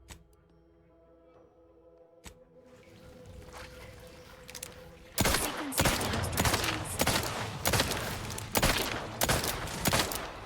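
Rapid bursts of enemy gunfire in The Outer Worlds 2, loud and dense after a quieter ambient start, with repeated sharp volleys packed close together.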